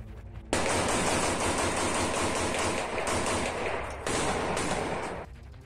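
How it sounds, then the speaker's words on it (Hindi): Sustained bursts of rapid automatic gunfire from Chechen fighters firing on Ukrainian forces in the Russia-Ukraine war rattle continuously for several seconds, loud and dense, with a brief lull near the end. "उसमें उनके लड़ाके यूक्रेन की सेना पर ताबड़तोड़ गोलियां बरसाते दिखाई दिए थे।"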